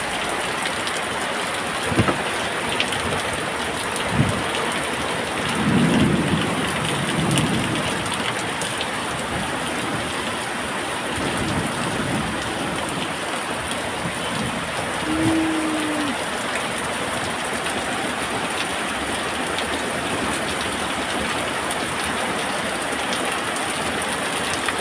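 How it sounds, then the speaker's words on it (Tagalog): A sudden heavy downpour pours steadily in a roaring hiss of rain hitting surfaces, loud and close, with a few faint low rumbles and knocks under it and no talk. "Kasi biglang buhos yung napakalakas na ulan."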